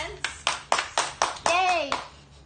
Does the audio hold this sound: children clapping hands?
yes